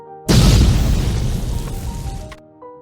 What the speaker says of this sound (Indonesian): Tapi kemudian meriam ditembakkan dari kapal.